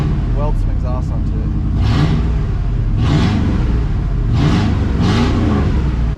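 A Chevrolet Silverado 1500 engine runs with no muffler in a shop, a loud, raw exhaust drone that swells with repeated revs, while a voice talks over it.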